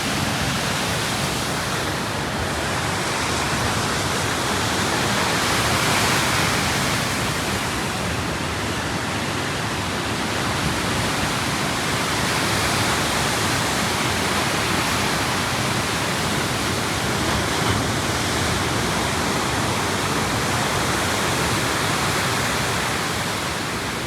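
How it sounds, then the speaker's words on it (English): Continuous rushing roar of Lake Superior waves breaking on a shore after a storm, steady and broadband with gentle surges, no voices. "Isn't it crazy to think these aren't ocean waves at all?"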